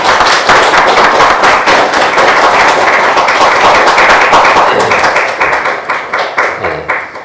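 A church congregation claps steadily and loudly, a dense sustained round of applause from many hands that thins out toward the end.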